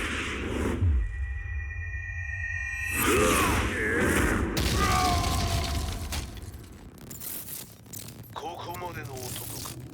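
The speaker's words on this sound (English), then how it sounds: "Explosion confirmed at the Mishima dojo." An explosion at the Mishima dojo in the Tekken 7 fighting game cutscene booms and crackles amid dense layered effects, debris rattling and voices over a loud, busy mix.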